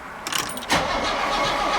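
A 1965 Mercedes-Benz 230SL Pagoda's engine cranks with a brief whirring starter burst, then catches and settles into a steady, close, loud idle rumble.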